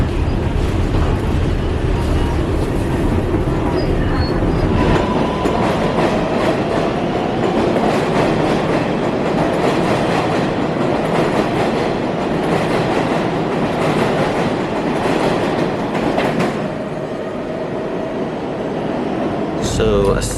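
Subway train rumbling through the Flushing subway station, a loud continuous roar with rhythmic clickety-clack of the cars, steady for most of the clip before easing off near the end.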